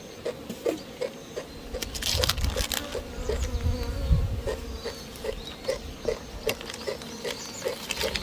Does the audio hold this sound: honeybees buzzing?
yes